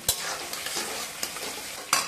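Sabudana khichdi with cucumber is stirred and fried in a pan, a continuous sizzle broken by sharp spoon scrapes and knocks against the pan, close and alone.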